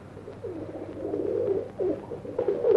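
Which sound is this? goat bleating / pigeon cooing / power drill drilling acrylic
pigeon cooing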